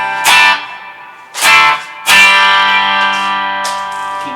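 Electric guitar through a slightly distorted Marshall amp: three hard-picked chords ring out one after another, each strike bright and gritty and left to sustain, with no talking.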